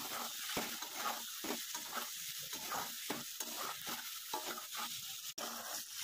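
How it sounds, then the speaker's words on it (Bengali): Eggs frying in hot oil in a pan, a continuous bright sizzle broken by repeated scraping stirs in a loose rhythm, close and fairly loud with no talking. "এবার ডিমটাকে ভেজে নেব।"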